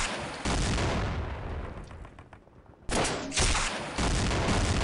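Heavy gunfire in Half-Life: Echoes hammers at a tank, loud close bursts of rapid shots broken by a brief lull before the shooting resumes.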